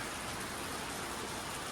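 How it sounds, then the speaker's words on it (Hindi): Heavy early-morning rain pours steadily on Mall Road in Darjeeling, a constant dense hiss with no breaks and no voices. "और बारिश कैसे झमाझम बारिश हो रही है, देखो।"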